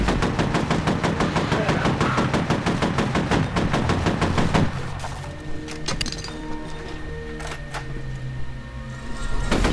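Rapid automatic machine gun fire in the shooter game F.E.A.R. rattles loudly and continuously for several seconds, then stops, leaving scattered impacts, clanks and faint game effects.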